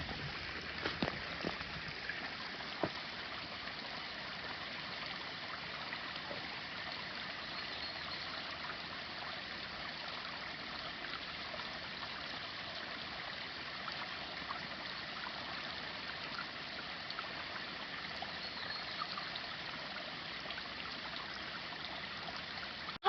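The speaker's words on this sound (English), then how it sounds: "Just a little waterfall." A small waterfall on the Shores Lake Loop trail makes a steady, even rush of falling and trickling water, moderately close and unbroken for the whole stretch, with no voices.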